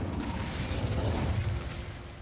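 In the Hogwarts Legacy video game, the Incendio fire spell goes off with a loud, close whooshing burst of flame that roars and then slowly tapers away.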